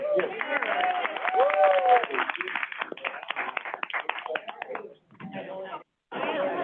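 Audience clapping at a DRCOG board of directors meeting, a brief patter of applause in a room that is soon overtaken by talking voices and fades out in bursts.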